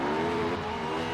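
A Ford GT concept race car in the Ford Racing 2 video game drives at speed, its engine a loud steady high-pitched whine that runs throughout the brief stretch without talking.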